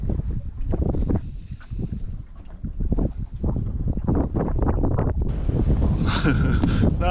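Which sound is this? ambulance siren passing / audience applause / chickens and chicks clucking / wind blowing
wind blowing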